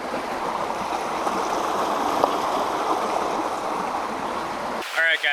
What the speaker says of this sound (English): there's a lot of rapids behind me